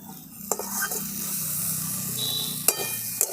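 Catfish curry ingredients sizzle steadily in a pan while a utensil stirs them, with a continuous frying hiss broken by a few sharp scrapes and clinks against the pan.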